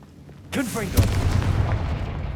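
A Confringo spell explosion in Hogwarts Legacy: a sudden loud blast with a swooping magical whoosh, then a booming crackle that rumbles on and slowly fades.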